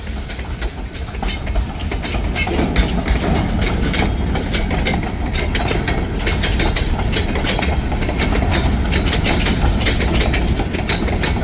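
Mile-long freight train rolling past with rail cars rocking hard, a loud, continuous rumble with rhythmic clickety-clack of wheels on rail joints and metallic rattling, steady and close throughout.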